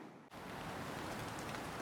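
Rain falling onto a canal makes a dense, even hiss of water after a brief quiet start, steady and unbroken with no voices.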